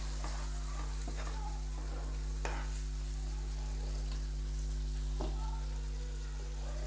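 Tomato puree masala for dhaba-style dum aloo being stirred and fried in a pan, with a steady soft sizzle and occasional scraping stir strokes throughout, close and continuous under a constant low hum.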